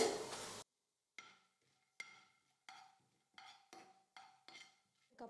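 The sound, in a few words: mustard seeds and lentils frying in oil in a kadai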